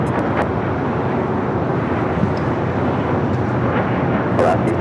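An airliner nicknamed the Queen taxis along taxiway Alpha at LAX, heard as a steady, loud, broad jet roar that stays even throughout, with wind buffeting the microphone.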